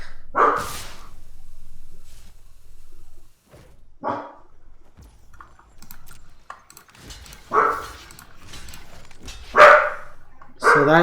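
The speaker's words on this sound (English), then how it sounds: "Sorry about my dog." A house dog barks in short bursts, four or five distinct barks spread unevenly over several seconds, fairly close and loud, with little else but faint room noise in the gaps.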